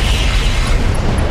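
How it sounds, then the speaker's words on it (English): A loud, dense explosion rumbles in the mech combat video game RogueTech, a short sustained boom with heavy low-end crackle and no talk over it. "We got an explosion, though."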